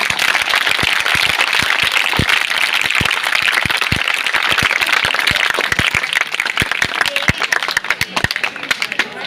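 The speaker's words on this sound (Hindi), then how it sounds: "आप हृदय से ताली बजाओ।" Audience at a government middle school honor ceremony in Haryana claps vigorously and steadily, many sharp individual claps popping out of a dense, loud wash that holds strong for the whole stretch.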